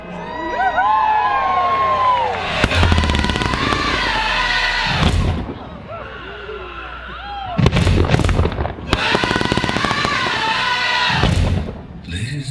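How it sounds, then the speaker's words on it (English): A grand public fireworks display: crackling bursts and booming shell explosions come in clustered volleys with lingering sizzle and whistling, loud and fairly near, with crowd noise beneath. "welcome to the Western Pyrotechnic Association's grand public display, the greatest fireworks show on Earth"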